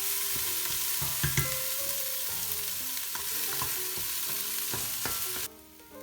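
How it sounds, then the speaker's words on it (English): Onions fry in a pan over middle-high heat, giving a steady close sizzle broken by scraping stir strokes and soft clunks until the sizzle suddenly drops away near the end. "Bake this for around 5 minutes, but keep on stirring it on"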